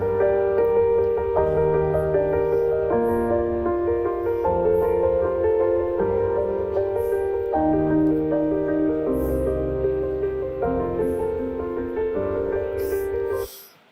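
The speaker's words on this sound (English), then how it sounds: "we've started creating piano music that sounds like this" Computer-generated solo piano music plays a flowing sequence of sustained chords and melodic notes at moderate loudness, then cuts off abruptly at the end.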